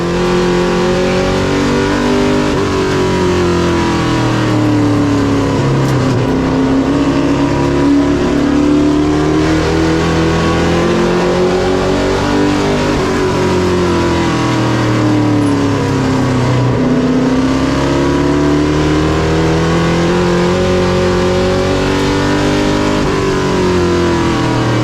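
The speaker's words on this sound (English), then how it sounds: "I bet Boo's grinning from ear to ear inside that race car." Race cars roar continuously around an asphalt oval, engine notes rising and falling as they accelerate and pass, loud and sustained throughout.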